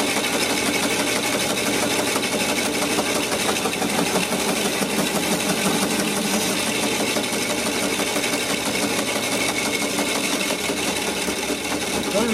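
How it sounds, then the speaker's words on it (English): A bandsaw cutting and tapering a wooden walking stick, a loud continuous whirring motor with a dense grinding buzz held steady from start to end, close to the mic. "What I'm doing here now is just using a bandsaw to get this tapered a little bit"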